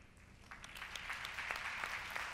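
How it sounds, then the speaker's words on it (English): Audience applause at a plenary session on climate change and sustainable development, fairly quiet and steady, with scattered individual claps standing out over a soft dense patter. "Keep your applause up."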